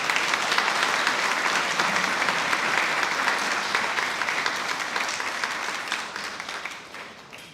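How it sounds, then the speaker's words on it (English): Audience applause at a family gathering in Samoa, steady dense clapping from a crowd that holds throughout and slowly tapers toward the end. "All right, ladies. Put your hands together. Let's cheer them on."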